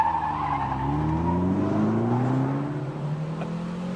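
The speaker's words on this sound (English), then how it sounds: "Well, that was a quick start, Steve." An MG Montego Turbo car accelerates hard from a standing start, its engine note climbing steadily as it pulls through a gear, with a faint tire squeal at the launch, heard from inside the car without talk.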